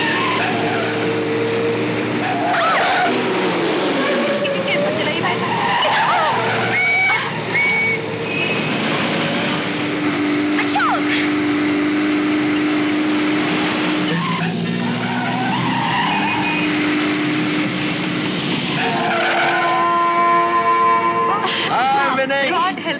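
In a Hindi film scene from The Burning Train, a car races alongside a train engine, with loud squealing tires and engine roar running throughout, overlaid by spoken dialogue and exclamations.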